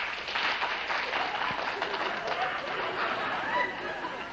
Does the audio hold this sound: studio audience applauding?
yes